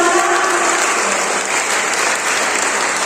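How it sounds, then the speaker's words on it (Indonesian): A crowd applauds the host at an evening Dhamma talk show held at a Buddhist vihara in Indrapura. The clapping is loud and dense, with no talk over it, and holds steady for a few seconds. "Satu tepuk tangan lagi untuk Tuan Rumah"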